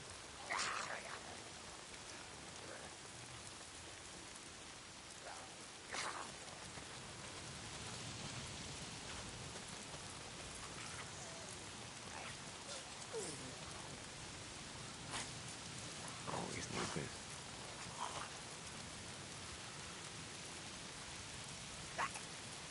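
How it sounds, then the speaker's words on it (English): Rain falls steadily for over twenty seconds, a constant hiss of drops with occasional sharper splats and brief louder patches, with no one talking. "If it's not the freaks, it's the goddamn rain."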